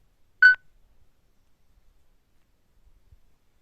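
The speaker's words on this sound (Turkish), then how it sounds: "Bip sesini duyacaksınız." A single short electronic beep from an internet speed test, clear and close, followed by near silence.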